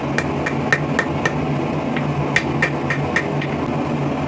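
A blacksmith hammers hot steel to reverse a taper while forging a dog-head hook, with about a dozen sharp ringing hammer strikes in a quick, slightly uneven rhythm, close and loud.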